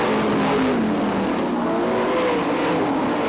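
Sprint race cars roar together around the oval at Fremont Speedway, their loud, continuous engine whine rising and sliding in pitch as they chase the leader.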